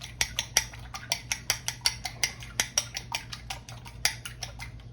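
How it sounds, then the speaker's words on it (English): Rapid, regular clinks of a whisk or fork against a bowl while eggs are beaten for old-school banana bread, close and steady with no talking. "I got some eggs over here. I'm gonna whisk up."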